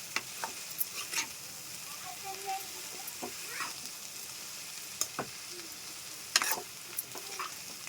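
Tamarind leaf and dried fish curry being stirred in a pan, soft scraping and faint sizzling with scattered sharper clinks, steady and low, no talking.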